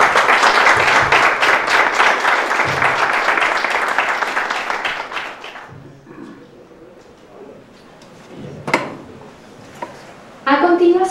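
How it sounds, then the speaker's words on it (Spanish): Audience applause at a diploma certificate ceremony, a dense wash of clapping for about five seconds that fades out, followed by a quieter stretch with a few scattered claps and a short final burst. "quiero pedir otro fuerte aplauso para él"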